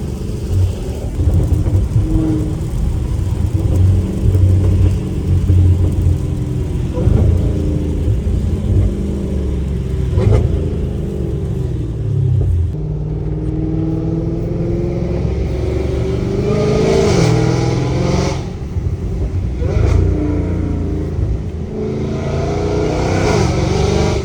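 An 800-horsepower Dodge Challenger Hellcat Redeye engine revs loudly in the rain, deep rumbling swells rising and falling in repeated throttle blips with a wet hiss underneath, close and continuous without talking.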